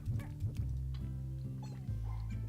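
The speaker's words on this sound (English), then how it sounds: "Sorry if you hear dog sounds. I can't control them. They bark at everything." A dog yips and barks a few times in the background, short sharp bursts over a steady low hum.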